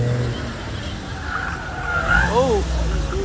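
An autocross car, number 60, running an SCCA course in Central Florida, its engine droning as the tires squeal in several rising and falling chirps through the turns, with an announcer talking over it.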